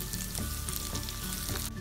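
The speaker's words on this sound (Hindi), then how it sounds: "2 मिनट के लिए मिड फ्लेम पे हम प्याज को फ्राई करेंगे" Onion and green chilli fry in a pan over a medium flame, giving a steady, loud crackling sizzle with regular soft scraping strokes of a spatula.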